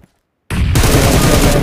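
Rapid bursts of automatic gunfire in PUBG Mobile on the Erangel map erupt abruptly after a brief silence and continue densely and loudly.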